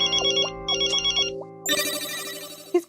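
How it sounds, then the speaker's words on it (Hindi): A telephone ringtone for an incoming call: a repeated electronic melodic trill in short bursts, followed by a brighter, busier musical passage, clear and fairly close with no talking. "किसका फोन है? बॉस का?"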